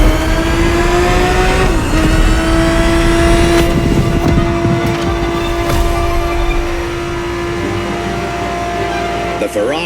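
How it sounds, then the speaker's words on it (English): A 1970s Ferrari 365 GTB4 engine drones loud and close in The Crew Motorfest, holding a steady high rev note with slight pitch shifts, while a narrator speaks over it. "The Ferrari 365 GTB4 is the perfect vehicle for you to experience Ferrari racing as it felt back in the 70s"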